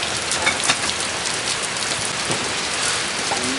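Heavy rain pours down on a surface at a house in Peter Cabugao, Ilocos Sur, a dense, constant, loud hiss with no break and no voices.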